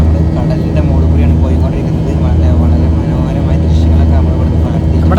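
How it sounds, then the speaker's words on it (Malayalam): A loud, constant engine roar drones from inside an airplane cabin during takeoff from Dubai, with someone speaking over the noise. "നമ്മളതാ ഫ്ലൈറ്റ് പൊന്തിരിക്കുകയാണ്"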